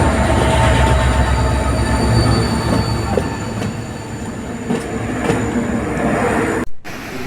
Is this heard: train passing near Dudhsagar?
yes